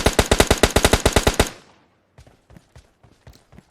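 Rapid automatic gunfire from a PUBG Mobile Lite match, a loud burst of about fourteen evenly spaced shots lasting a second and a half, followed by fainter scattered distant shots.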